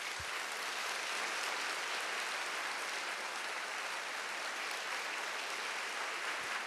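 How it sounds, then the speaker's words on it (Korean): A jazz concert audience applauds the drummer as he is introduced, a dense, even wash of clapping from a large crowd that lasts unbroken throughout. "여러분 큰 박수 부탁합니다."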